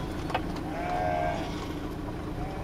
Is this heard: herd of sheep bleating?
yes